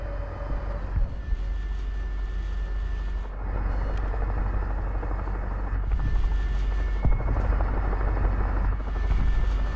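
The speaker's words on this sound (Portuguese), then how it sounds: "Um helicóptero ali que a gente consegue matar ele." A helicopter in the War Thunder video game thumps continuously with its rotor drone and engine whine, loud and close, while occasional sharp clicks and bangs from the game cut through.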